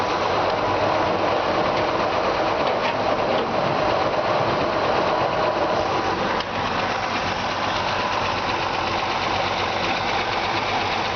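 A 1953 Chevrolet 3100 pickup truck engine idles steadily and loudly nearby, a constant rumbling drone with a faint knocking texture and no voices.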